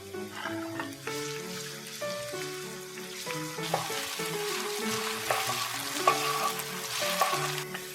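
Potatoes, carrots and tomatoes stir-frying in a pan give a loud, continuous close sizzle with occasional stirring scrapes, under faint background music and no talking.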